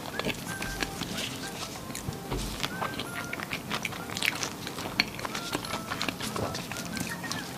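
Fried banana from a street snack cart is chewed close to the ear in soft, repeated crunchy bites, with a small pause between each, over a quiet background.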